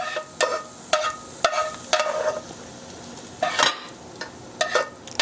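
Finely beaten egg cooking in a hot pan for moo shu pork, a faint background sizzle broken by several sharp utensil clacks and scrapes at irregular intervals.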